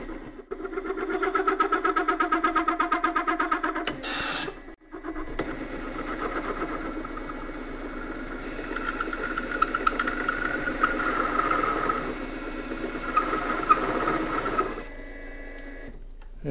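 A drill motor bores with a nitride-coated clone boring bit, giving a steady, buzzing mechanical drone with a rhythmic chatter. The drone dips briefly partway through, as if stalling, then resumes until it winds down near the end.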